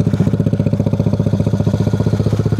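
A motorcycle engine idles close by with a fast, even putter, its steady low chugging pulses continuing the whole time.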